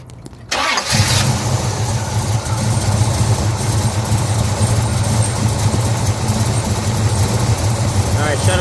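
A hot rod on the 2022 Hot Rod Power Tour, its fuel pump leaking, fires up after a brief crank and settles into a loud, steady, rumbling idle close by.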